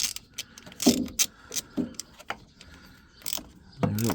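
Battery terminals are tightened on a Toyota MR2 with a hand tool, producing a few short, close metallic ratcheting clicks and scrapes in uneven bursts separated by brief pauses.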